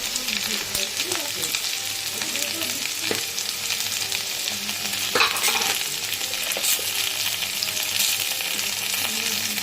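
Steady, loud sizzling of fish frying in hot oil with salt, turmeric going into the pan, a continuous crackle with occasional stirring scrapes close by.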